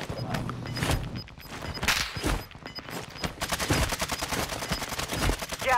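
Gunfire in a tactical shooter video game rattles through rapid automatic bursts and single cracks, loud and close, with a dense clattering stretch near the end.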